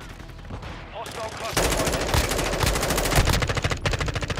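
Gunfire from Call of Duty Modern Warfare II in a Kill Confirmed match, starting with scattered shots and building into dense, rapid machine-gun bursts that run loud to the end.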